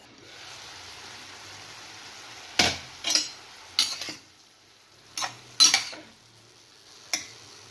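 Yardlong beans are stirred in a pan in six short, distinct bursts of scraping spoon on metal, close and clear, separated by quiet pauses with only a faint low sizzle in between.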